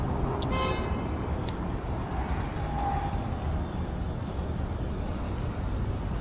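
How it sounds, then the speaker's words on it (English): A car horn toots briefly near the start during an e-bike ride home, over loud continuous wind and road rumble. "What you honking at?"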